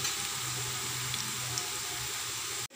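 Watermelon rind chips frying in hot oil make a steady, even hiss and sizzle throughout, ending with a brief clatter.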